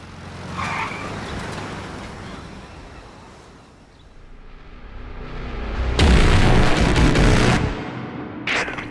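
Car in Metal Gear Solid V: Ground Zeroes driving hard with rumbling engine, then a loud burst of skidding or crashing noise near the end, fading with a short final hit.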